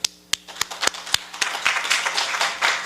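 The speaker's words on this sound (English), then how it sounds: "let us warmly welcome President James Bullard with a big round of applause" At a monetary policy forum, an audience greets keynote speaker James Bullard with a few sharp, scattered claps that quickly swell into continuous, moderately loud applause.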